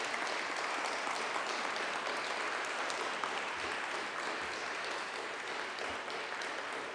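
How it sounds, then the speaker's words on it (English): Steady, dense clapping from a church congregation at a Unitarian Universalist worship service, continuous and even across the whole stretch, with no voices above it. "So if I could invite everyone to give her a huge round of applause."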